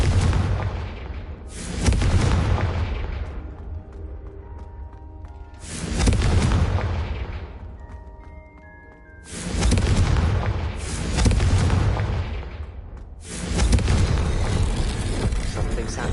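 Repeated Confringo spell explosions go off in the video game Hogwarts Legacy, with four or five heavy booming blasts spaced a few seconds apart, each decaying into a rumble, loud and close.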